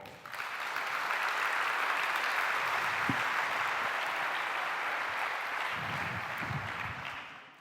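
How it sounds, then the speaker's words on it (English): A conference audience in an auditorium claps for four speakers. The dense, sustained applause swells quickly, holds steady for several seconds, then tapers away. "So please, a round of applause to our 4 speakers as well."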